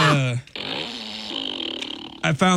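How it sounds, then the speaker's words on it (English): A toy fart gun fires a long buzzing, rasping fart noise in a studio, lasting about two seconds with a wavering pitch, while voices talk just before and after it. "Yeah, the fart gun is back in the studio."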